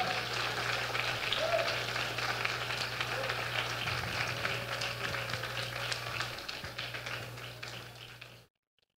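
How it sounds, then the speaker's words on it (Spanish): An audience at a charity fashion show runway applauds with dense, sustained clapping for about eight seconds, a steady hum under it, and then the clapping cuts off abruptly. "El aplauso grande para esta colección"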